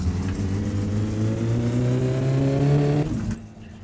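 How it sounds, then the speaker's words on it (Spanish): The Satsuma's engine in My Summer Car revs loud and steady, its pitch climbing gradually before it cuts off sharply near the end. No one talks over it. "Ahora se escuchará un montón el coche"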